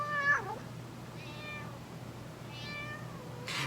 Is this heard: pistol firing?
no